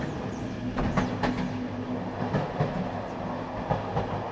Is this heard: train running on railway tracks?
yes